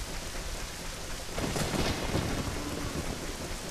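Rain falling in The Legend of Zelda: Ocarina of Time, a steady broadband hiss of downpour that thickens and grows louder midway, heard alone without speech.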